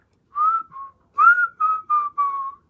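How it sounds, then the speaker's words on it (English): A person whistles a short melodic tune in five clear phrases, the notes bright and steady, close by with no talking. "he liked to whistle like this"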